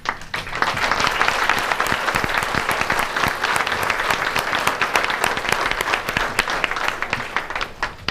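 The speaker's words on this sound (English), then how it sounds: "They're applauding you?" Applause from an audience at a county commission meeting, sustained clapping with distinct individual claps audible, building quickly and continuing steadily for several seconds.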